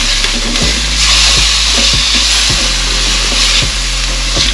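Garlic and spices frying in a soup pot give a steady, loud, close sizzle throughout, with light periodic scrapes and knocks as the pot is stirred; no voices.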